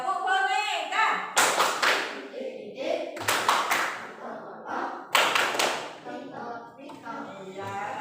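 Schoolchildren in a classroom playing a rhythmic clapping game, with several short bursts of clapping separated by chanting and talking voices.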